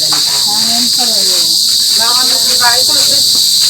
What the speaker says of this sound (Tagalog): Oh, daming kuliglig.